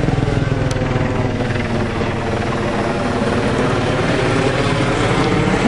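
A helicopter drones steadily and loudly overhead, its dense rotor rumble filling the whole stretch without a break.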